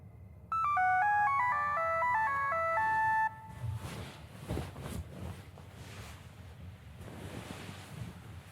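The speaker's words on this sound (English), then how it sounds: "Is that my phone?" A melodic phone ringtone rings loudly for about three seconds, then cuts off, leaving the sound of ocean waves and gusting wind.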